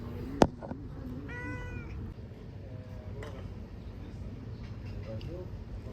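A cat meows a couple of times at close range over steady background rumble, with a sharp tap near the start and faint voices around it.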